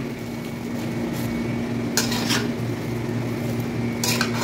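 Cauliflower and beef stirred in a pan, with a steady scraping and clatter of a utensil against the pan and a few louder knocks near the end, close up and without talk.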